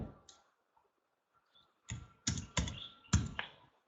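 A computer keyboard is tapped while a password is typed: a few scattered keystrokes, then a quick burst of five or six crisp clicks, close up in a quiet room.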